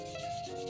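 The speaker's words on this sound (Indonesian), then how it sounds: "Seperti ini kita gosok." A blade rubbed across a green sharpening stone in a short, steady grinding scrape, close and continuous with no talk.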